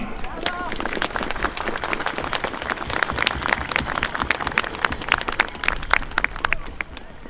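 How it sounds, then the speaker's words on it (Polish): Outdoor crowd at a Three Kings procession clapping steadily, a dense, continuous patter of many hands at close range with a faint murmur of voices underneath. "Dajmy im wielkie oklaski"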